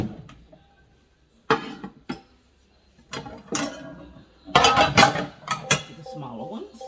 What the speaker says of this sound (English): One more frying pan.